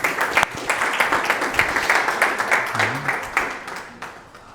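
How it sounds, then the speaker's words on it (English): Audience applauding a speaker at a business breakfast event, a sustained wash of many hands clapping that builds and tapers off toward the end, with a brief voice partway through. "big round of applause for Carlos"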